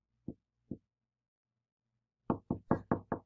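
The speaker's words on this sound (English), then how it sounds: "It's knocking." Knocking on a closet door: two soft separated knocks, then a pause and a quick run of five louder, sharper raps close by, with no talking.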